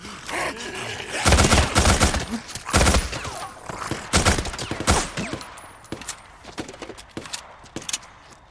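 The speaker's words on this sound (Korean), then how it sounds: "이 총소리는 또 뭐야?" Gunfire in the video game Days Gone: several loud bursts of shots in quick succession, then scattered sharper cracks fading over a few seconds, with no talk.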